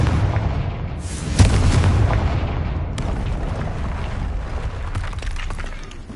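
A fire-spell blast from Hogwarts Legacy erupts as a loud explosive boom, followed by a sustained roaring, crackling rumble that dies away slowly amid game effects.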